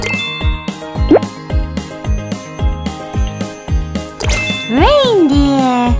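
Cheerful jingling chimes from the Baby Panda Christmas mobile game in a decorated living room scene, a steady run of bright plinking notes over a bouncy tune, ending in a rising and falling sparkly sweep.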